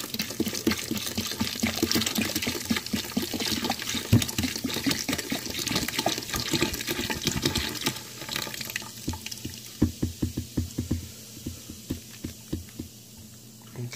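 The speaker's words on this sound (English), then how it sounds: "So I'm going to put in all of this, whatever I have of this root beer. So you're going to pour that in." Root beer being poured into a dish while cooking dinner, a steady liquid splashing and gurgling stream that runs for several seconds and then breaks into separate glugs toward the end.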